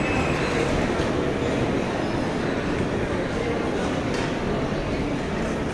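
Busy ambience inside Edinburgh Waverley railway station in Scotland: a steady, dense wash of crowd murmur and train noise filling the hall throughout, with faint voices blended in.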